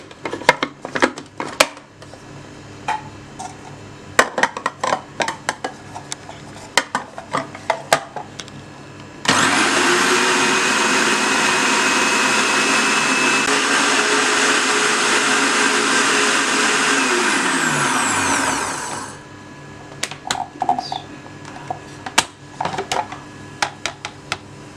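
An electric kitchen grinder blitzes bread pieces with cardamom seeds for a bread halwa. A steady, loud whir lasts about ten seconds and then winds down, with scattered clinks and handling noises before and after.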